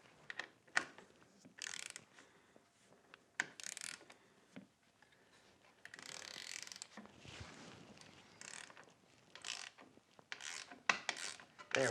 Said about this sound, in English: I need to draw that up in with a socket wrench